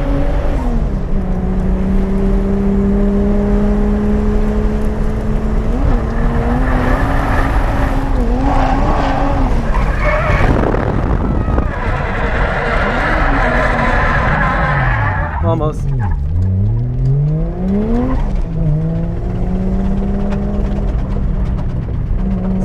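Loud race car engine revving up and down repeatedly at Ebisu Circuit, close by, with rising and falling pitch sweeps and bursts of squealing tires, voices occasionally underneath.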